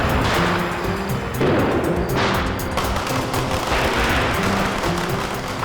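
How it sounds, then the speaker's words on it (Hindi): Firecrackers being set off in a Hindi TV drama scene, a dense barrage of sharp bangs and crackling pops over a constant noisy roar, loud and continuous with a faint musical tone underneath. "पटाखे जलाते हैं।"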